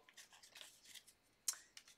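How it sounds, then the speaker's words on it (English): A deck of game cards is shuffled by hand during a solo tabletop playthrough of Peak Oil Profiteer, with several quick, faint, close riffling and sliding bursts over two seconds, one sharper snap near the middle. "I'm going to shuffle, okay."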